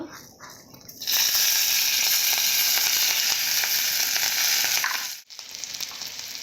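Bay leaf and green chili dropped into hot oil, a quiet pan that bursts into a loud, sustained close sizzle, briefly dipping near the end before resuming, with no talk.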